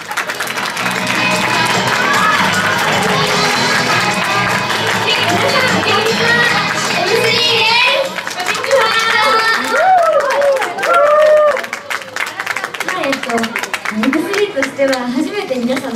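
Audience applause and cheering greet an idol group's debut at an event at avex headquarters, clapping mixed with excited voices, then thinning as speech takes over.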